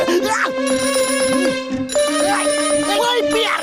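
A phone ringtone plays a bright repeating electronic melody, loud and close, with a voice talking over it.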